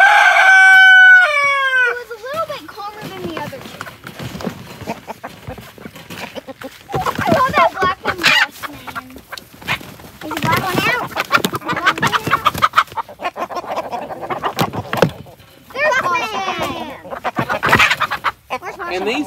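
A rooster crows loudly at the start, followed by chickens clucking and squawking on and off through the rest, with people talking under and between the bird calls.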